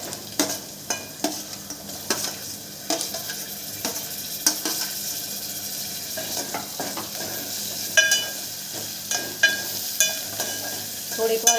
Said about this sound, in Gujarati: થોડીક વાર આપણે ડુંગળી આ રીતે સાતરશું.